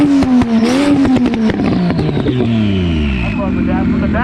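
A big-turbo BMW 335 exhaust revving hard at an exhaust competition, loud and close, rising then falling through several sharp pulls, with crowd voices talking over it.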